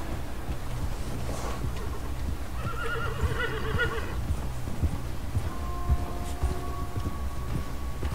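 A horse in Red Dead Redemption 2 gives a clear whinny midway, followed by a few hoof clops, set against steady outdoor ambience in the game world.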